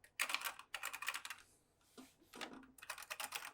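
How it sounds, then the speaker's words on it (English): Keys clatter in close, quick bursts on the keyboard of a retro game console or computer with a cartridge slot, with short pauses between the flurries of crisp clicks. "the keyboard, which actually is quite a nice keyboard for ASMR"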